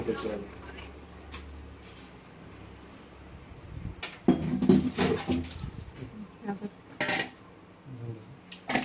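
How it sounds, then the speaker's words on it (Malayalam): A small metal vessel and a plate are handled outdoors, with clattering clinks and knocks, loudest toward the second half, while people talk around them. "ചെറിയൊരു പാത്രം എടുക്കുന്നുണ്ട് പ്ലേറ്റ്"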